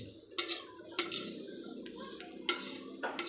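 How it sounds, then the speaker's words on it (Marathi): Cumin and fennel seeds roast in a pan while a metal spoon stirs them, soft scraping and clinking strokes repeating every half second or so over a quiet dry rustle. "या ठिकाणी जिरे आणि सोप भाजत आलेले आहे"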